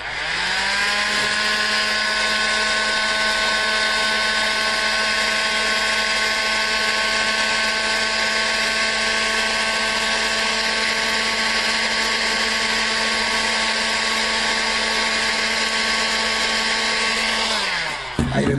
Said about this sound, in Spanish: Con un soplador de aire caliente calentaremos los mismos y les daremos la forma.